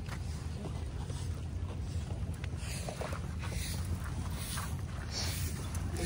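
Small wooden fishing boats paddled on open water, with a steady wash of water and wind noise running throughout, fairly close and even in level.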